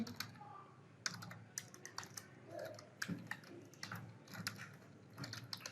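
C code being typed on a computer keyboard, quiet close key clicks in an irregular patter with short pauses between bursts, nobody talking.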